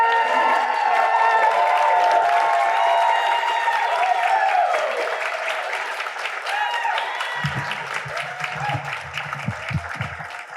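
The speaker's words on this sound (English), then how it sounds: "The entire way that this person is coming up, clap for them." A live audience applauds and cheers at an evening arts lecture event as a speaker comes up, loud sustained clapping filling the room before it thins out, with some talk near the end.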